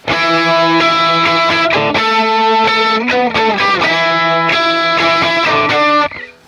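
Loud distorted electric guitar chords from a song ring out in a steady strummed rhythm, thick and sustained, then cut off abruptly at the end.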